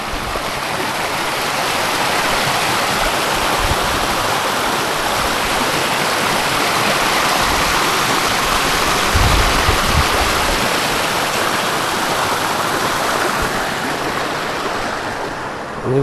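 Loud, continuous rush of a fast-flowing stream swollen by heavy rain in the Konkan countryside, a full roaring wash that stays steady throughout with no voices.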